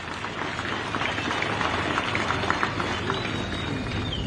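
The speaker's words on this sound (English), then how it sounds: "May we clap for Mingomba and the partners." An outdoor audience at the groundbreaking ceremony of the Mingomba mine applauds, with dense, continuous clapping at an even level throughout.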